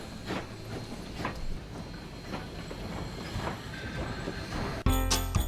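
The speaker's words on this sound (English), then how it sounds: "This is the first time since the 1990s that I've been able to actually run a train." A toy Christmas train runs along its track, giving a steady rolling clatter with faint periodic clicks, then a louder, closer burst of rattling and clanking near the end.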